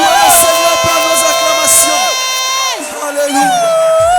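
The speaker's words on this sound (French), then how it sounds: "est-ce que tu peux pousser des cris de joie?" A church congregation raises loud, joyful shouts and cheers in praise, with many voices whooping and calling out together, close and continuous, their pitch swooping and sliding before the noise eases toward the end.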